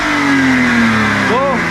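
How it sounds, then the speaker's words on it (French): A BMW drift car engine revs up with a strong, steady drone that gradually drops in pitch, then a brief rising-and-falling flare near the end, loud and close throughout. "si t'accélères, normalement, on a un bruit de voiture de rallye"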